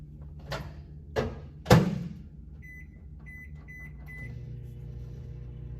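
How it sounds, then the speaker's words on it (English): A microwave oven heating pizza for 60 seconds: a few sharp door and button clunks, a run of short beeps, then a steady low hum as it runs. "So I'm going to start by microwaving this just for 60 seconds"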